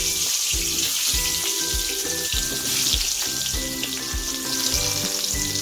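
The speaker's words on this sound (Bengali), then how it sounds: "হলুদ লবণ তেল দিলাম তারপর পটলগুলো ছেড়ে দিলাম" Pointed gourd fries in hot oil with turmeric and salt, giving a continuous loud, close sizzle with rhythmic crackling pulses throughout and no voices.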